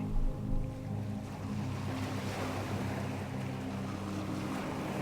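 A wave rolls in and washes ashore, a steady broad rushing surf with a deeper swell at the start, close and continuous over a low tonal drone, with no voices.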